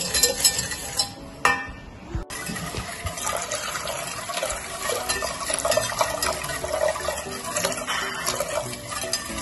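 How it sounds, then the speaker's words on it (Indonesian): Water poured from a container into a cooking pot while making a layered pudding, a continuous close splashing and trickling with a few clinks of metal near the start. "Kemudian kita masukkan airnya."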